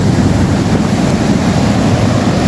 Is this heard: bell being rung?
no